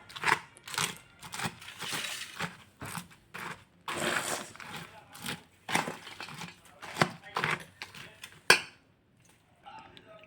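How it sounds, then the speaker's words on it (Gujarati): Farali bhel ingredients are tossed with red chili powder in a bowl, making a series of close scraping and rustling strokes in an irregular rhythm before falling quiet at the end. "લાલ મરચું પાવડર હવે આપણે બધું જ મિક્સ કરી દઈશું"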